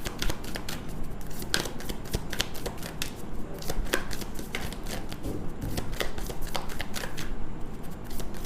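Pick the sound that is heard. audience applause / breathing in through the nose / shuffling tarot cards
shuffling tarot cards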